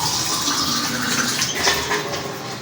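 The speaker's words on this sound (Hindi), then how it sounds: "2 गिलास पानी डालूँगी।" Water poured into a pot of spicy masala beef curry, a steady broadband splashing rush that runs without a break for the whole stretch, fairly loud and close, with no voices over it.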